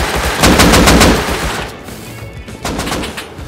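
Rapid automatic gunfire in the survival game Rust, a loud burst of repeated shots in the first second and a half, then quieter scattered shots and echoing fire afterward.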